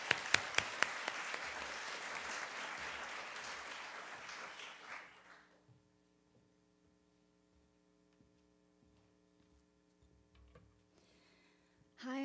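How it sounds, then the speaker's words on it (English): Audience applause for readers at a literary awards finalist reading, a dense wash of many hands clapping for about five seconds, then dying away into a quiet room with a steady low electrical hum. "Give a round of applause to these last readers."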